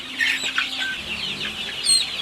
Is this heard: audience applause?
no